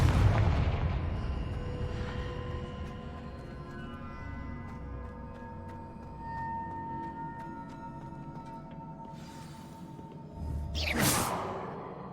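A Confringo spell exploding in Hogwarts Legacy, a deep boom that decays slowly into a low, ringing tail, followed near the end by a sharp whoosh and a second burst.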